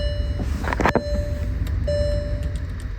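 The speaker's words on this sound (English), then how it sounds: "So I'm going to put the key in the ignition here. We'll see if it clicks on." A key turns in a car's ignition and the electrics switch on: a quick cluster of close clicks, then a steady electronic tone over a low cabin hum.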